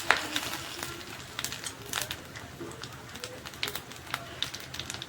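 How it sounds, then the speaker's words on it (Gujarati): Mustard seeds dropped into hot oil for a Gujarati dry potato bhaji crackle and pop in a scattered run of sharp bursts, fairly close, over a low kitchen background. "તેલ આપણું ગરમ થઈ ગયું છે। હવે આમાં આપણે રાઈ નાખી દઈશું।"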